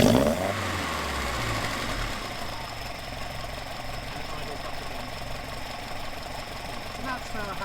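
Twin Dellorto/Weber carburettors on an idling engine keep up a steady, close mechanical rumble, the revs sagging slightly and then picking back up with a faint knocking texture throughout.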